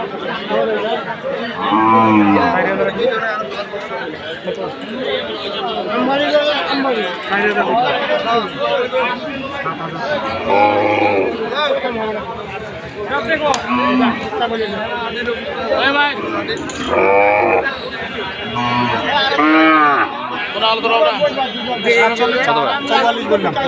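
Cattle at a livestock market lowing now and then amid constant nearby talk and crowd babble, the moos partly buried under the voices.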